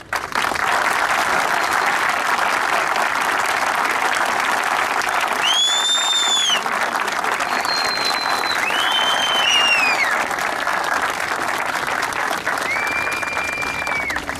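Crowd of students applauding in protest at a campus march, a steady dense wash of clapping throughout with a few whistles cutting through above it.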